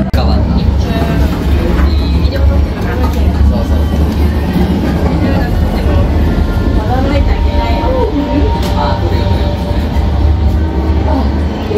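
Steady rumble and rattle inside a train carriage on a ride at Warner Bros Studio Tour Tokyo, a continuous loud low roar with faint clattering and background chatter throughout.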